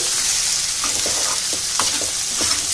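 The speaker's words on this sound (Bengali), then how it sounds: "তো ভালো করে কষিয়ে নেব বেশ ভাজা ভাজা মতো করে নেব" Plain rice for biryani fries and is stirred in a pan, giving a steady bright sizzle broken by repeated spatula scrapes, loud and close with no talk.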